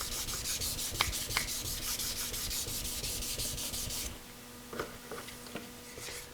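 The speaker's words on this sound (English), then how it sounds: "So when I sand through this primer" Sandpaper rubs over a primed auto body surface in quick, rhythmic back-and-forth strokes that sound close and steady. After about four seconds the strokes give way to a few faint scrapes and taps.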